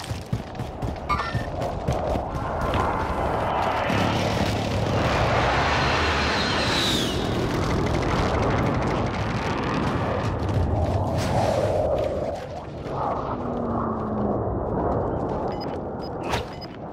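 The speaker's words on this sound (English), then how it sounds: "Enemy precision airstrike. Take cover." An enemy precision airstrike in Call of Duty: Modern Warfare: jet aircraft roar in and sweep overhead with heavy rumbling explosions, loud and sustained for most of the stretch before tapering off near the end.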